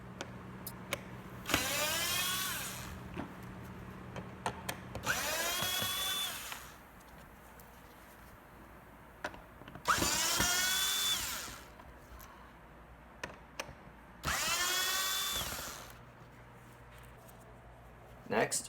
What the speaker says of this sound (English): remove these 4 screws using a Phillips screwdriver